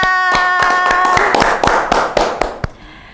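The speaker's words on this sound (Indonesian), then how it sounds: "Tepuk tangan." Rhythmic hand clapping from a few people, a series of sharp, evenly spaced claps that grows denser and more scattered before stopping, heard close and alone over a faint tonal background.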